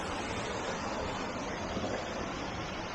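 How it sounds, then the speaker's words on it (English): A river flows through nature near waterfalls in Sintra near Lisbon, a dense, steady broadband rush heard close and loud without pause or voices. "So here is the river."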